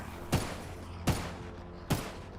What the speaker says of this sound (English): The gunshots are over here.